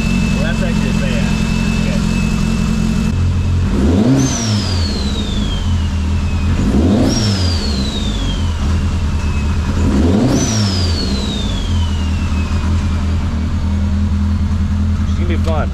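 The turbocharged engine of a Polaris RZR Pro R side-by-side idles loudly, then revs three times in evenly spaced bursts, each with a rising whine that sweeps down afterward, close by with a steady high tone underneath.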